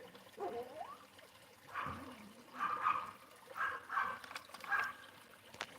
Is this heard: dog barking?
yes